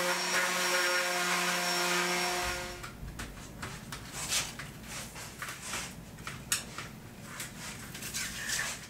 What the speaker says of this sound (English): I'm hitting this with the random orbit sander to take the polish off the metal